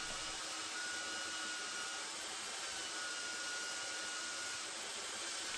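The varnished wooden end of a boat tiller sanded down with a power sander, a loud, steady, close whirring hiss that runs unbroken throughout, no talk.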